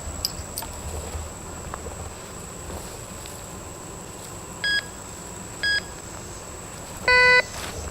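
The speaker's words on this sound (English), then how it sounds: "So this is just a demonstration of how to use the Ginour metal detector, the proper techniques" A Ginour metal detector gives three electronic beeps at a quiet outdoor spot: two short identical tones, then a longer, richer tone, over a steady high hum and faint background noise.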